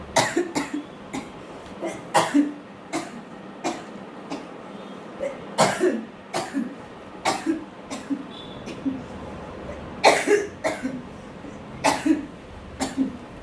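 Repeated coughing fits, many sharp dry coughs in irregular bursts, close by and fairly loud, with short pauses between them.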